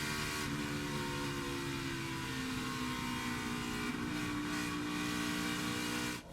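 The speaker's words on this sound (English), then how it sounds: "We heard Harvick feathering that throttle as he went through the turn" A NASCAR stock car at the 2017 Brickyard 400 feathers its throttle through a turn, with a loud, steady engine drone and layered harmonic whine held without a break and no voices.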